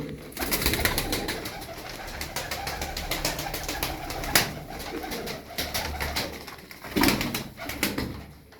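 Twelve Turkish tumbler show pigeons coo softly and repeatedly at close range, with occasional wing flaps and rustling in between.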